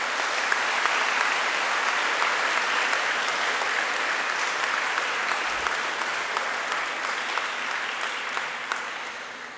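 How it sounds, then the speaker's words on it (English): Audience at a convocation ceremony applauds in a full, steady burst of clapping that holds for nearly ten seconds and slowly fades, with no talking over it. "Let's give all of these colleagues a big round of applause."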